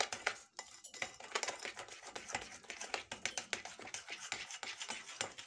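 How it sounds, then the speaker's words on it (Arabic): Spoon or whisk scraping and clinking around a bowl while mixing a biscuit cream batter, a steady run of close, bright taps and scrapes with no talk. "ونقلب كويس كده"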